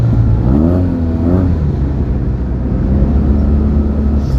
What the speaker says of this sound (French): ce qu'il y a de bien avec le pot Terminioni, en fait on vous entend arriver